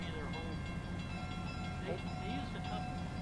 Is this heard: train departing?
yes